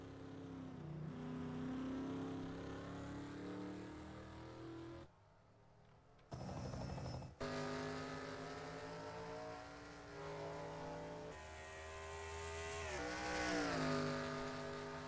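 NASCAR Racing 2003 race cars roar around the Montreal circuit, the engine note whining and shifting as a car accelerates and downshifts, with a brief cut near the middle before the revving climbs again.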